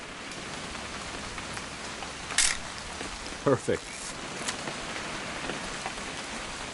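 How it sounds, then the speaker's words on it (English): Steady rain falling in the video game What Remains of Edith Finch, a constant soft hiss throughout, with a few brief sharper sounds and a voice speaking briefly over it. "It's gonna rain the whole weekend,"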